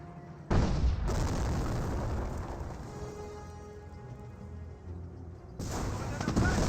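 Shells striking a British 17-pounder anti-tank gun in Company of Heroes, with a sharp impact burst, a rumbling stretch of battle noise, then another loud crack near the end under a commentator's voice.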